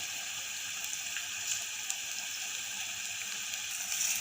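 Spices roast in hot oil in a pan while cooking Kannada kalu palya, a steady, soft crackling sizzle that stays even throughout with a few faint pops.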